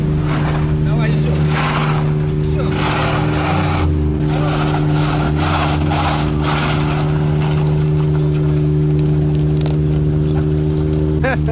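A car engine revving hard while drifting, a loud continuous roar with pitch swelling and falling, heard up close from inside the car, with voices over it.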